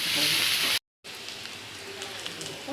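Steady sizzling from onions sautéing in a pan, cut by a brief silence, then a quieter, continued crackle.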